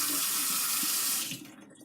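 Steady tap water runs and splashes into a cast iron pan being rinsed in a sink, constant and close before easing off near the end.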